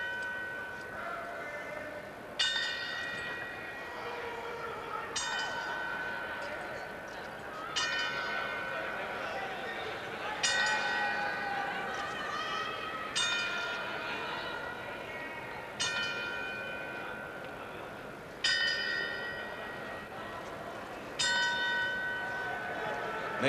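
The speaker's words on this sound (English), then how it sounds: "they're tolling the 10-second bell" A ten-count bell tolls slowly in a boxing arena during a 1987 Tyson–Biggs fight-night tribute, about nine ringing strikes at steady intervals of roughly two and a half seconds, each resonant tone fading under a low crowd hum.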